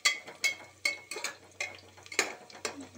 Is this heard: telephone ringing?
no